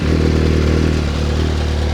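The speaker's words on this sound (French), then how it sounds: "Et maintenant, sa moto, elle démarre." A motorcycle engine runs loud and close right after being kick-started, holding a steady, rumbling idle with a slight clattery edge and no talk over it.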